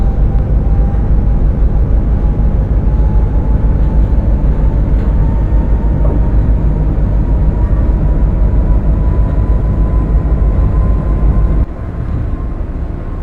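A PRR V2 Santa Fe Express train in a simulator game is under heavy dynamic braking, a loud, continuous low rumble with a thin steady whine on top, easing off abruptly near the end.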